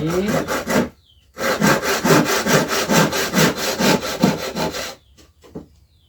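A handsaw cuts through wood for a chicken coop in steady back-and-forth strokes, close and loud, pausing briefly before a few final rasping strokes.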